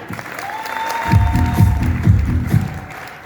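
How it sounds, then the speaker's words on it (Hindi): An audience at a company's sixth anniversary celebration in Chandigarh claps in a few loud rhythmic bursts, with a sustained tone and voices in the background and some speech mixed in. "जोरदार तालियां"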